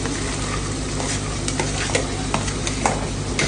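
Onion and carrot stirred and fried in a pan, a dense, continuous sizzle close up with repeated spatula scrapes and clicks against the metal, steady and loud, no voices.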